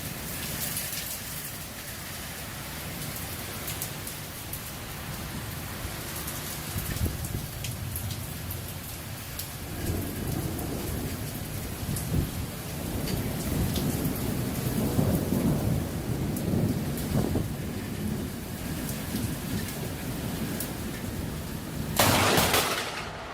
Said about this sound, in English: He took his camera onto the balcony to record some lightning strikes.